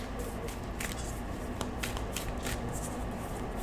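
Rumi oracle cards being shuffled, a continuous close riffling and rustle of card stock with soft rhythmic flicks and no talking.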